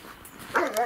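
A muzzled dog out on a walk in the open air gives a brief, muffled bark or yelp, quick and fairly faint.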